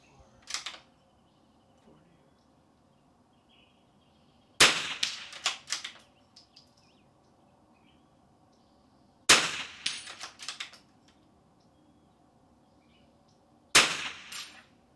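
Rifle shots ring out at an NRL22 match stage, four sharp, loud reports spaced roughly every four to five seconds. Each shot is followed by a short metallic ring and clatter, and the range is otherwise quiet.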